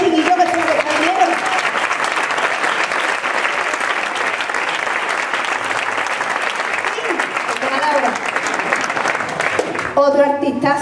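Sustained audience applause at a flamenco festival, loud and dense clapping from a crowd, continuing steadily for about ten seconds before a brief change near the end.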